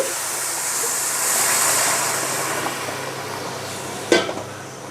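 Measured hot water is poured into a pot of fried rice while cooking chicken pulao, giving a steady rushing, sizzling wash that swells and then eases, with a brief sharp clatter near the end.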